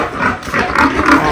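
Boars, breeding pigs on a farm, give a series of close, rough grunts in short repeated bursts, with no one talking over them.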